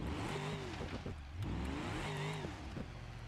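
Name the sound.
car accelerating in the video game BeamNG.drive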